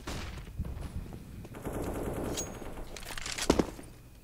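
Counter-Strike match on the map Mirage, with bursts of automatic gunfire and a few single shots over a busy game background, including a louder cluster near the end.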